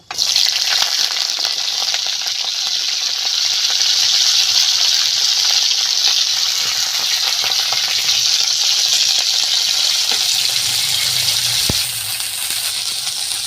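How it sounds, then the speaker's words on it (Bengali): Loud, continuous sizzling of cauliflower frying in hot oil, with occasional stirring clinks, close up and steady throughout. "প্রথমে আমি কপিগুলো ভেজে তুলে নেব"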